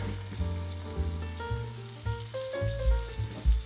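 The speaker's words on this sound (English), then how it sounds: "we will be adding 4 tablespoons of butter" Butter sizzling and frying in a pan around a seared T-bone steak, a continuous bright crackle with occasional bubbling pops close up.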